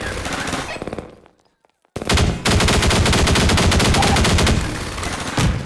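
Rapid automatic gunfire in Half-Life 2 rattles loudly and continuously, broken by a short silent gap before a long sustained burst resumes.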